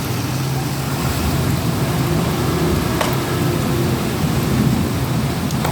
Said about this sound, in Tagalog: Ulan kasi.